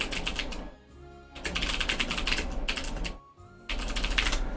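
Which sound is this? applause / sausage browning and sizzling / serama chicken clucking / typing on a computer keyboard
typing on a computer keyboard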